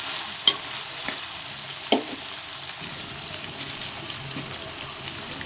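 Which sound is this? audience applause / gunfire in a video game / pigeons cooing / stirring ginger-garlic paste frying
stirring ginger-garlic paste frying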